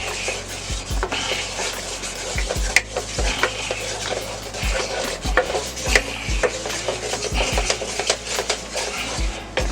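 A butter and flour roux is stirred steadily in a pan for Swedish meatball sauce, with a continuous scraping, rubbing texture and occasional utensil knocks against the pan, close and fairly loud, with no talking.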